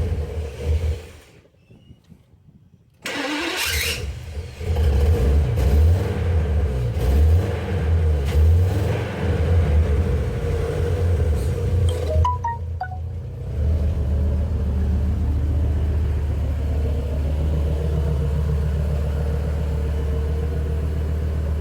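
A rebuilt 1998 Ford E-350 with a 6.8L V10 cranks and starts on its first run after assembly, with a brief grinding starter, then settles into a steady, loud, close-up rumbling idle with a short pause partway through.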